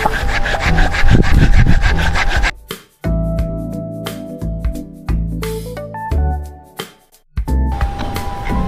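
A hand saw rasps through waru (sea hibiscus) wood from a fence cutting in quick back-and-forth strokes, loud and close, with pauses and some scraping and knocking between bursts.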